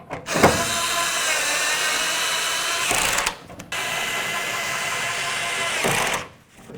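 Power ratchet or driver snugging liftgate cover mounting bolts on a 2002-09 Dodge Ram 1500: two long whirring runs, each starting and ending with a click, separated by a short pause, close and fairly loud.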